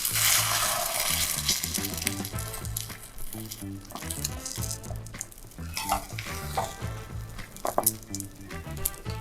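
Eggs cook in a pan with sweet soy sauce, giving a continuous close sizzle that is loudest at the start, with scattered spatula scrapes and clinks against the pan.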